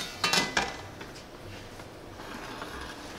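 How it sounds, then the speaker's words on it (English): Pizza being slid back into an oven: two quick metallic clanks and a scrape of the rack or tray right at the start, then a fairly quiet, steady oven hum. "I'm gonna place it back to the oven."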